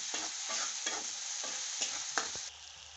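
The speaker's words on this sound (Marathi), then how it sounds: "बारीक चिरलेला टोमॅटो कापून घेतलेला आहे, तो आता ह्याच्यात टाकून परतून घ्यायचा व्यवस्थित" Finely chopped tomatoes being sautéed in a pan for a spicy dry chicken dish, a steady sizzle broken by repeated stirring scrapes, fairly quiet and with no talking.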